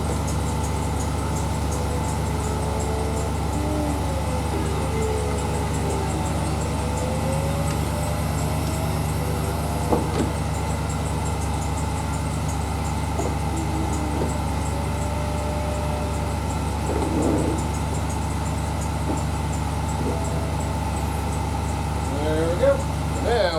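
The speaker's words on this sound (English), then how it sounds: "And we're going to cycle our top and see if our little door works." The convertible top mechanism on a BMW 645ci/650i cycles over a steady engine idle, with intermittent motorized whirring and rising and falling whines, plus a few clicks and knocks as the panels move.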